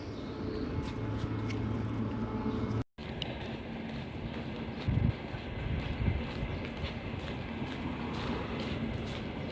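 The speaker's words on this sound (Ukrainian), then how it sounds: "Чутно, як потяг шурує поруч майже." A train rumbles past nearby outdoors, a broad steady roar running throughout with brief louder thumps and one short dropout, with no voices.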